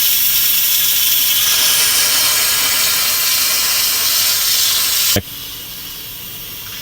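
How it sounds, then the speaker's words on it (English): Steam hisses loudly and steadily from an Instant Pot pressure cooker during a quick release while it cooks corned beef, cutting off abruptly near the end to a quieter background. "we're just going to do a quick release on the Instant Pot. I'm just going to put this here so that steam isn't really obnoxious"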